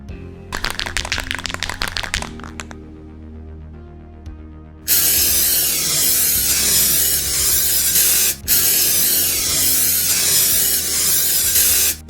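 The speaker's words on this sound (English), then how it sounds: "And now it's time for paint." Primer from a spray can hisses onto a squirt-gun sci-fi blaster, heard as a loud, steady close spray with one brief break. It follows a few seconds of clicking and can-rattling handling.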